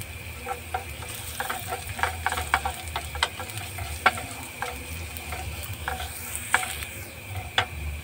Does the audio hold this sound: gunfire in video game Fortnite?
no